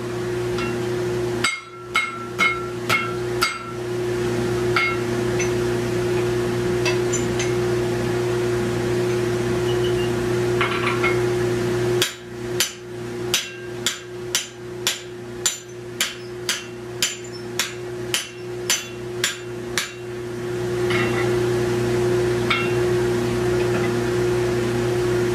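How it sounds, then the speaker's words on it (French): Heavy hammer blows striking a steel punch to pierce metal in a blacksmith's toolmaking shop: a quick cluster of sharp metallic strikes, a pause, then a longer steady series of loud ringing hits over a constant machine hum. "On perce le métal avec un poinçon et un marteau."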